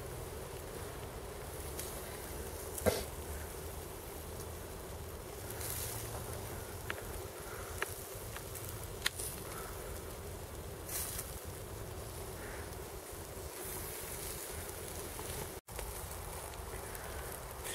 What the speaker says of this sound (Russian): Жар очень сильный, чтобы мясо не горело, будем поливать пивом.